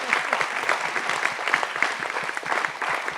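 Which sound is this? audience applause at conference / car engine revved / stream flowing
audience applause at conference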